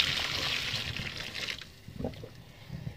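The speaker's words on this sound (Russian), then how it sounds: "Выливаю туда целую кастрюльку кипятка." Boiling water pours from a saucepan into a drain, splashing steadily for about a second and a half, then thins to a few gurgling trickles and drips close by.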